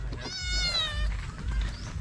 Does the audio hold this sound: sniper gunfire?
no